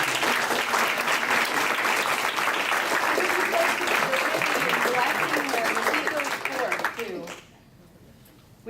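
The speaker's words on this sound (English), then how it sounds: "just give them a round of applause." A church congregation at Unity of the Valley in Savage, Minnesota gives loud, sustained applause for members aging out, with voices mixed in, before the clapping quickly fades to near silence at the end.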